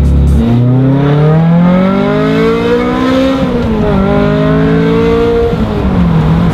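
A Ferrari F355 with a six-speed gated manual gearbox revs loud and close. Its engine note climbs in pitch, eases briefly, then rises again in a smooth, sustained wail with no talking.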